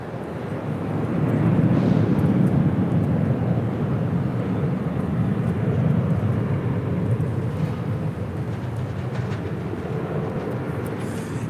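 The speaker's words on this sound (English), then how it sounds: "2702 coming in from Austin on a 737-700." A Southwest Boeing 737-700 jet arriving at LAX gives a broad, steady roar on the airport ramp that swells early, then slowly settles into a sustained rumble with no voices.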